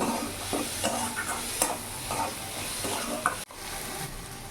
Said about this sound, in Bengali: এরই মধ্যে একটু বেশি করে ধনে পাতা কুচি দিয়ে দেবো ভালো করে মিশিয়ে নেব